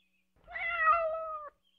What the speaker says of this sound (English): Here's your cat, Witter Jones.